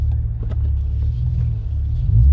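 A Chevrolet Camaro engine runs with a deep, close rumbling idle, steady and throaty with a slight rise in level at the end.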